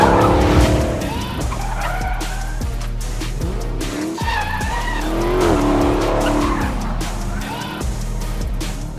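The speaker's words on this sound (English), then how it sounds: "The Hellcat loves to go sideways" Dodge Challenger SRT Hellcat sliding sideways, its tires skidding and squealing in long wavering howls over a deep, steady engine roar that continues for the whole stretch, loud and close.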